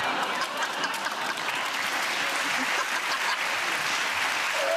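Studio audience applause at a televised comedy panel show, a dense steady clapping that fills the whole stretch at an even level with no voices on top.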